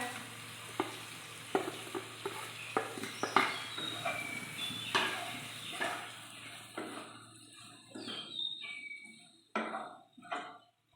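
Washed flattened rice (chira) goes into a hot pan for vegetarian pulao and is stir-fried, with repeated spatula scrapes and clinks over a soft sizzle that thins out toward the end.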